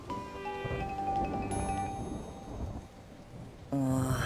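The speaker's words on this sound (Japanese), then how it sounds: "あれ、今日雨だ。" Rain falls outside with low rumbles of thunder, a steady wash of noise beneath tonal music, moderately loud throughout and without talk.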